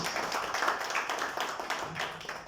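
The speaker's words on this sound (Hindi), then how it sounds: "जोरदार तालियां बजा दीजिए प्लीज" A crowd at a Holi gathering claps continuously, a dense patter of many hands applauding steadily throughout.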